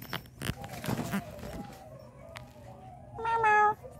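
A single loud cat meow rings out near the end, after a stretch of soft murmuring and faint background rustle.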